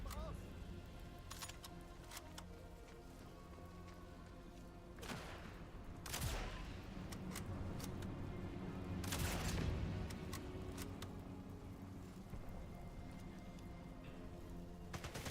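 Bursts of modded rapid-fire SMG gunfire crackle in a Sniper Elite game, with a few sharp clusters of shots rising over a steady low background rumble and scattered distant pops.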